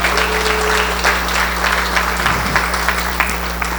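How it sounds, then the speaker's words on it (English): A room full of people at a Rotary club meeting applauding a member, steady dense clapping over a constant low electrical hum, sustained throughout without pause. "Let's have a round of applause for Bonnie."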